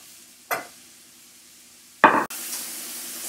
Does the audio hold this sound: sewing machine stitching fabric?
no